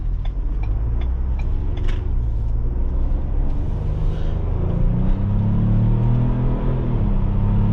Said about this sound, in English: That V6 sounds great. Obviously, it sounds like a, kind of sounds like the Ford Raptor's kind of V6.